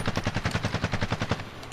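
A DMR 14 rifle with a VLK optic in Call of Duty: Black Ops Cold War fires a fast, even string of about a dozen close, punchy shots, each crack followed by a short tail, all without voices.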